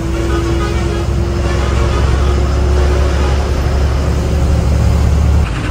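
New Bhumi Travels bus driving toward Una, Gujarat, a steady low engine and road rumble heard from inside the vehicle with a faint constant whine, continuous throughout.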